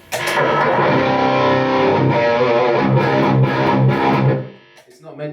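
A loud, heavily distorted electric guitar rings out in a sustained, fuzzy chord passage, then cuts off abruptly near the end.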